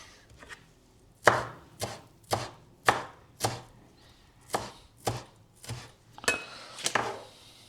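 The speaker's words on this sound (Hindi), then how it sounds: "टमाटर, प्याज और कोरिएंडर। बिल्कुल फाइन चॉप कर लेना है।" A knife finely chopping tomato, onion and coriander on a board, about ten crisp evenly spaced strikes after a couple of lighter taps, close and clear with no talking.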